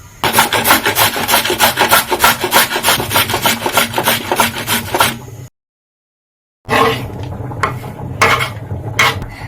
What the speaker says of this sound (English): It's half a medium-sized carrot that I already peeled and washed. So I'm going to go ahead and grate it.